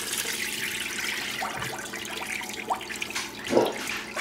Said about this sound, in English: We're going to just fill it up with water.